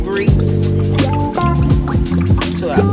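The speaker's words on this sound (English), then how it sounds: "now time to pour our grease" Cooking grease pours into a pot, with a close, loud glugging and gurgling stream full of bubbly, bouncing liquid tones that runs unbroken for a few seconds.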